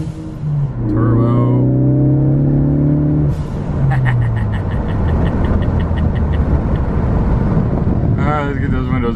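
A turbocharged car accelerates and revs, engine pitch climbing through gears, with wind noise heavy around the microphone and someone talking over it inside the cabin.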